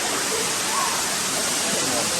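A large waterfall pours in a dense, unbroken roar, loud and near, filling the whole moment without pause.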